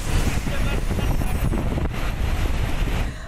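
Strong surf pounds the shoreline at Aparri, Cagayan, under heavy wind, a loud, steady roar of crashing waves and gusts filling the whole clip with no pause.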